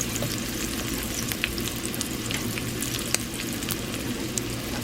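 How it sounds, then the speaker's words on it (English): Breaded pork schnitzel cordon bleu, beaten thin and filled with Colby cheese, sautéing in a pan: a steady, close sizzling and frying hiss with small pops and crackles throughout, no talk. "you're really sauteing the pork"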